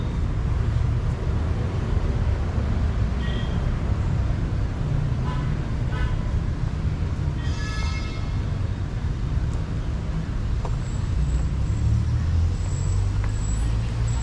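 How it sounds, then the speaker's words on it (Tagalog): Steady, loud road traffic on a Cebu City street in the Philippines, with cars and buses rumbling past continuously and faint horn-like tones now and then. "medyo mga sasakyan na nandito"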